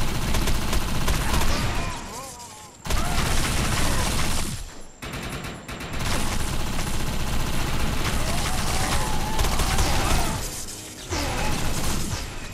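Dense gunfire from a paralyzing gun in the video game Defiance, with loud sustained bursts broken by short pauses and mechanical clatter, and a voice under the shooting.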